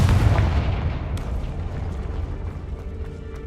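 A Confringo explosion spell in the video game Hogwarts Legacy bursts with a loud, heavy boom at the start, then a rumbling tail that slowly fades over a few seconds.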